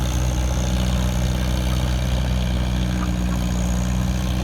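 A large antique tractor engine drones steadily at close range, a constant low rumble with no breaks or talking.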